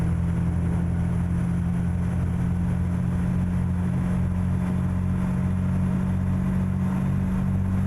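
Kenworth 521 rigid-chassis truck in American Truck Simulator, hauling a gasoline pup trailer and revving high in eighth gear; a steady, loud, deep engine drone runs unbroken throughout with no talk.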